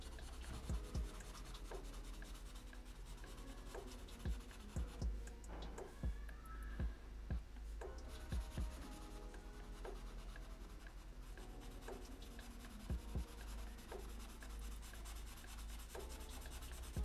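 Pencil shading black areas of a masked Deku drawing on paper, a steady close rubbing and scratching with repeated short strokes throughout, with no talking.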